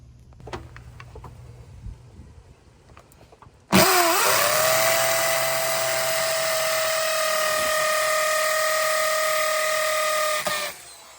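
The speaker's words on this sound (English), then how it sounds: "Let's go ahead and drill our holes out on here." A power drill starts abruptly and runs at a steady high-pitched whine for several seconds while drilling holes for an outdoor shower install, then stops; quiet handling sounds come before it.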